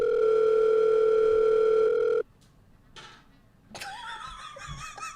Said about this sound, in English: Who's calling us? Our phone ringing.